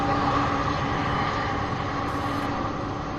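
MD-11 aircraft landing at Louisville airport, a loud, steady roar of jet engines heard throughout, with no talking.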